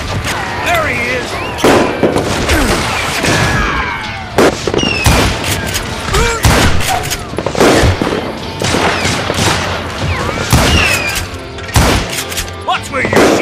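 Heavy gunfire crackles in dense bursts and single sharp cracks, with whizzing and thudding impacts throughout, loud and close over a continuous din.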